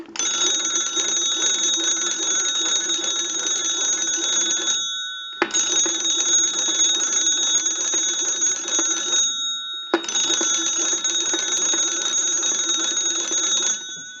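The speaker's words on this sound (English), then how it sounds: "we want to go ahead and crank the bell box and ring the original bells." An old hand-cranked telephone bell box rings its original metal bells in three long, loud bursts of rapid clanging, each about four seconds, separated by short pauses.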